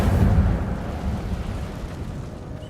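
In Hogwarts Legacy, the Incendio fire spell is cast with a rumbling, roaring whoosh of flame. The blast is loudest at the start and then fades into a crackling rumble.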